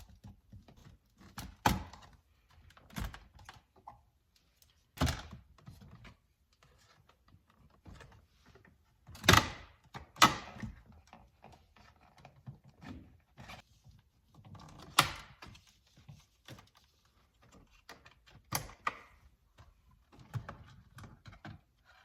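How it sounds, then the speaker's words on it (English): Center console trim clips on a BMW E90 are pried loose inside the car, making scattered plastic clicks, knocks and thunks at irregular intervals, close by and fairly quiet, with no speech. "now I'm going to pull the center trim and basically just get underneath the side of it and pry it up"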